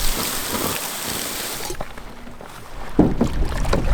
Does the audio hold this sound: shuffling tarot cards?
no